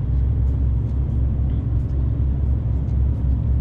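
Low, steady diesel drone of a truck climbing a mountain road in seventh gear at about 1300 rpm, heard from inside the cab as a constant heavy rumble with no speech.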